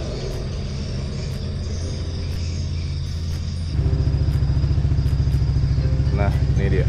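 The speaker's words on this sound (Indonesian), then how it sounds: "Kita coba nyalain mesin aja ya." A motorcycle fitted with BiLED headlights idles at first, then its engine is started and settles into a loud, steady, throbbing idle close by with an even pulsing beat.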